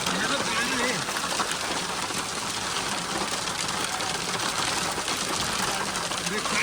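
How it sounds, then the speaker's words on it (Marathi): Hailstones drum densely on a car during a violent hailstorm, a steady loud pattering with no pauses. "गाडी बरोबर टप टप आवाज येऊ राहिलाय"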